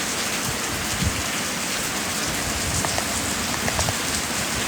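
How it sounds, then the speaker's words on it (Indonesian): Heavy rain pours steadily on a public cemetery at night, a dense, constant hiss of drops drumming on surfaces close by, with no voices. "Hujannya makin gede anjay."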